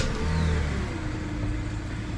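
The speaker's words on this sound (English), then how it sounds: "Then we start the car" An old high-mileage BMW car engine starting, catching with a low rumbling rev that swells briefly and then settles into a steady idle hum.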